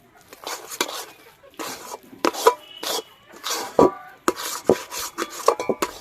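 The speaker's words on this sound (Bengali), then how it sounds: "এবার ডালটাকে কন্টিনিউ নাড়াচাড়া করতে হবে যতক্ষণ না কড়ার গায়ে থেকে ডালটা ছেড়ে আসছে।" A spoon scrapes and knocks against a kadai as lentil dough for niramish dhokar dalna is stirred continuously, giving irregular close clatters and scrapes in quick succession.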